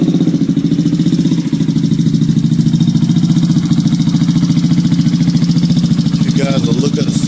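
A Yamaha Zuma scooter fitted with a swapped GY6 engine runs close and loud with a steady buzzing drone, while someone talks over it.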